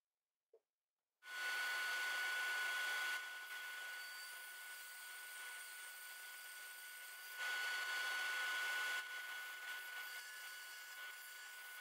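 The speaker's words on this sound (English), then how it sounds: "I'll use a sander for this bandsaw cut before I mark up the next cut." A power sander whirs steadily against a bandsaw-cut edge on a small wooden owl workpiece, starting after a brief click and running continuously close by, with a slight swell in loudness midway.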